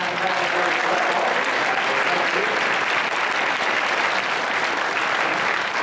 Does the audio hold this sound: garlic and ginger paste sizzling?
no